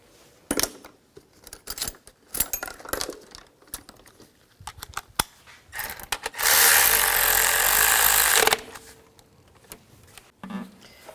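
Intake bolts being snugged down by hand on a 2003-08 Nissan Maxima during an intake gasket replacement: scattered metallic clicks and ratcheting taps, interrupted by a loud burst of hissing noise lasting about two seconds.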